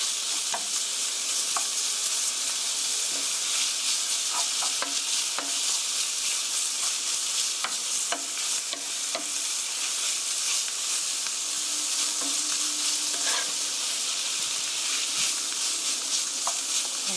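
Meat for curry rice stir-fries in a pan, giving a continuous loud sizzle with occasional clicks and scrapes of stirring, close and unaccompanied by voices.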